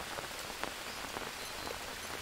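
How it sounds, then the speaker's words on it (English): Steady, soft rain patters on surfaces in the survival video game Green Hell, with fine scattered droplet ticks throughout and no voices. "We've got some rain going on."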